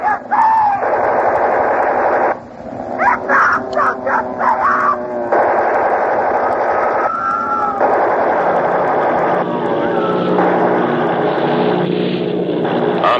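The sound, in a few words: air raid sound effects from War of the Worlds radio drama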